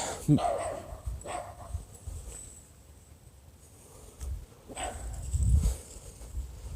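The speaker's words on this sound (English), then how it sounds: "It's a small little dog." A small dog barks in short sharp yips, a few spaced bursts near the mic, with a human voice talking around them.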